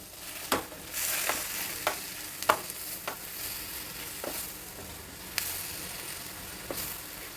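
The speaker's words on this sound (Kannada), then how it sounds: "ಎಲ್ಲ ಸಾಮಗ್ರಿಗಳನ್ನ ಹಾಕಿ ಒಂದೆರಡು ಸಲ ಈ ಥರ ಹುರಿದ್ಬಿಟ್ಟು" Spices and ingredients stir-fried in a pan for an onion gojju: a steady low sizzle with about eight sharp scraping strokes of a spoon, spaced irregularly, close by and with no talking.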